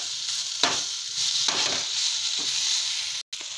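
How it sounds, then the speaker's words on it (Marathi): Garlic cloves and ginger roast in a hot pan, giving a steady close sizzle and fry with a few soft scraping stirs, then a brief dropout near the end. "त्यामध्ये 2-3 लसणाच्या किडल्या पण भाजत आहे।"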